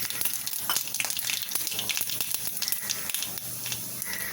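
Mustard seeds and broken urad dal with curry leaves frying in hot oil for a chutney tempering, a steady dense sizzle with scattered pops and crackles close to the pan.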